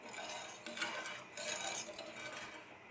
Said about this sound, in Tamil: அடுப்பில் வச்சுட்டு லைட்டாக வந்து இப்படியே கிண்டியே விட்டுக்கோங்க